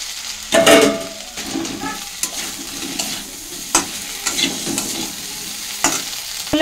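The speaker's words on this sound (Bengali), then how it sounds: "তো এই যে আমি এবার কচুগুলো দিয়ে দিচ্ছি।" Taro pieces dropped into hot spiced oil in a pan sizzle loudly, with bursts of frying and stirring scrapes at a close, busy pace and no talking.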